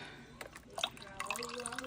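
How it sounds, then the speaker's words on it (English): Water pours into a pot while a weeknight Alfredo sauce cooks, soft liquid splashes and drips at low level with faint kitchen background. "I'm gonna add a little, the rest of that water"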